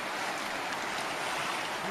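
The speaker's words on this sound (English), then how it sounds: "Pulled up to this boat ramp and it's really flooding out today, and the water is moving out there, man." Fast floodwater of the New River after a storm, seen from a boat ramp, making a steady, loud broadband rush with no break and no voices.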